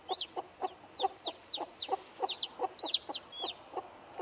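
Newly hatched chicks peep in a steady run of high, bright cheeps, roughly a dozen repeated chirps in quick succession, close and clear with no talking.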